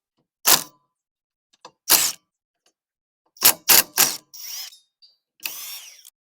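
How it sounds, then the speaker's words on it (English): An impact wrench fitted with a 70 mm socket removes brake backing-plate bolts from a Volkswagen Beetle or Karmann Ghia during a drum-to-disc conversion: several sharp, loud rattling bursts, some in quick succession, then a couple of longer whirring runs, with no talking. "we use a 70 millimeter socket with our impact wrench"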